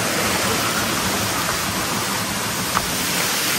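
A waterfall-fed stream in a Nepali village jungle, a dense continuous rush of flowing water, loud and close with no voices.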